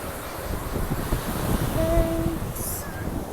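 Waves and wind at the beach make a steady, soft rushing wash with buffeting wind noise on the microphone, and a faint high whine is heard briefly.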